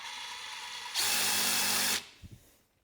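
A power drill driving a tool attachment whirs loudly for about a second, then spins down, followed by a couple of light knocks.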